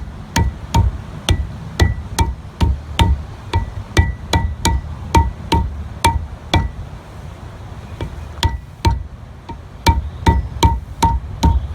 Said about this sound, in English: with a rubber mallet, hit it until it's flush